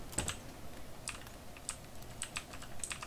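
A computer keyboard clicks in scattered light keystrokes during cloud gaming with keyboard and mouse, sparse taps spread irregularly, faint and close, with no talking.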